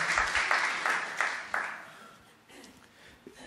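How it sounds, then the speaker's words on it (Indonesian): Congregation clapping in a church, a burst of hand claps with several distinct strong beats at first that fades away within a few seconds, fairly faint and without talk. "Bisa tepuk tangan yang gak fales gak sih?"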